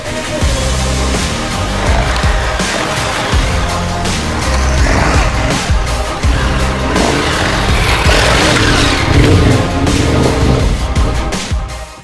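KTM 1290 Super Adventure motorcycle ridden hard over rough off-road terrain, loud continuous engine roar with rising and falling revs, wind buffeting and knocks from bumps and jumps, no talk.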